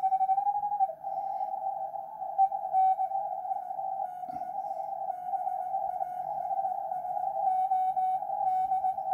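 A received radio signal sounds as a steady, clear tone that holds continuously over a faint noise floor during a signal attenuation demonstration, with a brief click partway through.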